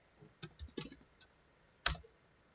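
A few soft keystrokes tap out a short command on a computer keyboard, close and quiet, followed by one firmer key press after a brief pause.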